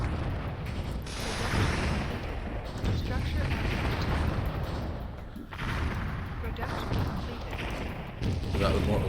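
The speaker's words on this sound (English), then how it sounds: "Is that the mortars there? That is the mortars there." Mortar fire in the strategy game Warzone 2100, repeated heavy booms and rumbling blasts rolling in waves over a dense battle din.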